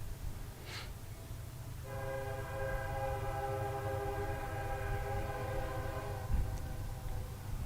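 A train sounds its horn beside a cricket ground during a league final, a long sustained multi-tone blast at moderate distance over a low rumbling background, with no talk.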